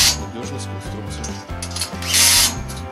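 Bolts being tightened on the frame of a Pavilion-3M greenhouse during assembly, with repeated metallic ratcheting and tool clicks over a steady low hum and a brief harsh burst near the end.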